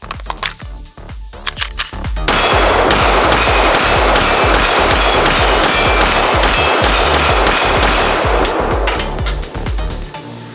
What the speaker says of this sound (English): next up, we've got some MagTech 180 grain 10mm as well, full metal jackets